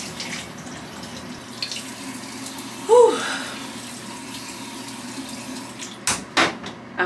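Shower water running as a steady hiss throughout, with a brief exhaled voice sound midway and a few soft knocks near the end.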